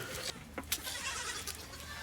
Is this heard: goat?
yes